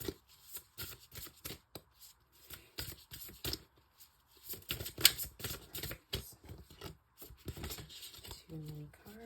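Tarot cards shuffled close by in quick, crisp riffling bursts and soft flicks, repeating in uneven clusters with brief pauses, quiet and intimate with faint talk underneath.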